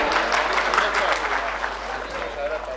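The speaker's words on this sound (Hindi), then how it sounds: "जोरदार तालियों से इस्तकबाल कीजिए" Steady applause from a large crowd at a poetry mushaira in Bhiwandi, India, dense and continuous throughout, with no pause or break in the clapping.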